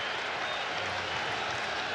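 A packed stadium crowd applauds pitcher Johnny Cueto during a regular-season baseball game, a steady wash of clapping and crowd roar that holds at an even level throughout.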